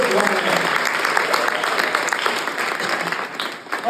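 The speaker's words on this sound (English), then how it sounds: "Another applause for Matt." A live audience at a comedy roast night applauds, a dense, steady wash of clapping from many hands that fills the room and holds loud throughout before easing slightly at the end.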